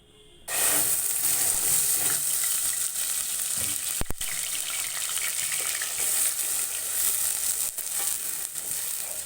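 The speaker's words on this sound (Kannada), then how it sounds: "ನಾನು ಈಗ ರುಬ್ಬಿಟ್ಕೊಂಡಿರೋಂಥ ಈರುಳ್ಳಿ ಬೆಳ್ಳುಳ್ಳಿ ಶುಂಠಿ ಪೇಸ್ಟನ್ನು ಇಲ್ಲಿಗೆ ಹಾಕ್ತಾ ಇದ್ದೀನಿ" Ground onion, garlic and ginger paste dropped into hot oil for a home-style chicken sambar, bursting into a loud, close, steady sizzle after a brief quiet start, with a couple of faint clinks partway through.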